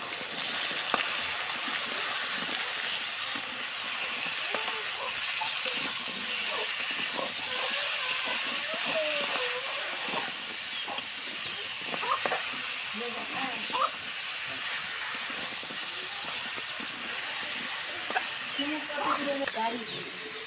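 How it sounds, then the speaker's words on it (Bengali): Sweet pumpkin frying in a pan with salt, turmeric and cumin, a steady close sizzle and hiss with scattered small crackles, running continuously under a voice speaking. "দেখুন এখন মিষ্টি কুমড়াটা দিয়ে দিলাম, স্বাদ মতন লবণ দিয়ে দিলাম, হলুদ জিরা দিলাম"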